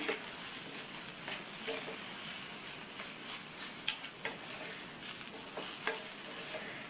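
Ground coconut mixture being stirred into frying brinjal masala for ennai kathirikai, a continuous close sizzle with scraping stirs and a few small utensil clicks, no voices.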